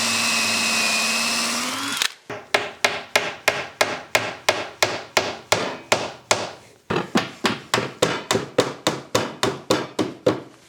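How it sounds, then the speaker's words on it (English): Woodworking on a frame: a power drill whines steadily for two seconds, then a long run of sharp, evenly spaced hammer taps drives dowels into pre-drilled holes, loud and close with no talking. "Drill your pre-holes and put those dowels in it."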